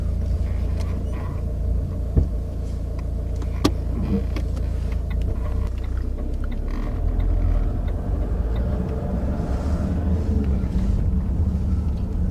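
A learner driver's car pulling away and driving on along a road, steady low engine and tyre rumble from inside the cabin with a couple of small knocks.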